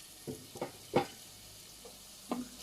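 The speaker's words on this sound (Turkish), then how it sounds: "Bu arada burada et de kavruluyor" Soft sizzling of meat frying in a pan with onion and garlic, with a few brief stirring scrapes and clatters, fairly quiet and close.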